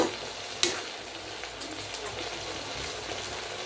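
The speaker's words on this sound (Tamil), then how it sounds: "நல்லா கொதிக்கட்டும் பைனாப்பிள் ஜூஸு." A steady, soft bubbling and sizzling from pineapple juice simmering in a pan over medium flame, with a brief clink near the start.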